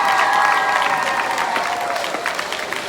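An audience applauds the state superintendent of public instruction at a school award event in Virginia, a full, steady burst of clapping with a few faint cheers that gradually eases toward the end.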